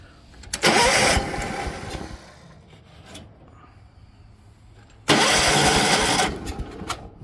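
John Deere 216 lawn tractor engine on a number 26 battery, two loud bursts of starter cranking separated by a quiet pause, the second cranking run catching and fading into running.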